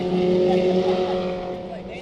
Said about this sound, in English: You can probably hear all the race cars.